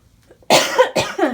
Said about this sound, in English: I've caught a cough from my family.